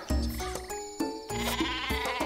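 Sheep bleats from the video game Worms Revolution, several short wavering cries in a row, loud and close over game music.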